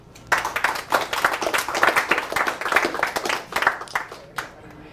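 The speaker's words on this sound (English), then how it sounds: "let's hear it by applause if you're over" An audience at a live comedy show applauds in a steady burst of dense clapping for several seconds, fairly close, then it thins out and fades near the end; no voices stand out.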